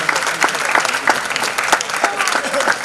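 Audience applause at a Hindi stage drama performance, a steady dense clatter of many hands lasting the whole stretch, with scattered louder claps and cheers from the crowd, fairly close and even in level.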